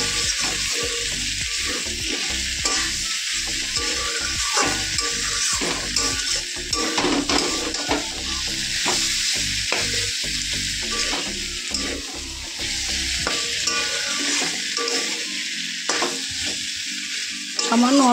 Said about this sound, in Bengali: এইগুলো ডাঁটা দিয়ে, কুমড়ো দিয়ে, আলু দিয়ে, পটল দিয়ে এই তরকারিটা রান্না করছি